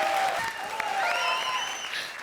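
Studio audience applause for Arbaaz on a comedy show set, a brief steady wash of clapping under music-like tones and a faint voice.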